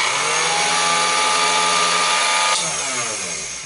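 An ElmaGrav engraving machine runs with its spindle turning, giving a steady, loud mechanical whine and hum that holds evenly, then shifts pitch and eases slightly near the end.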